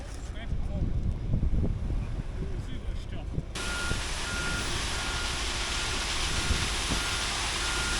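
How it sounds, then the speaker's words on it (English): A concrete truck pulls in on a building site and sends out steady, evenly spaced reversing beeps over constant wind noise and engine rumble, with talking nearby early on. "Looks like another truck's just pulling in now."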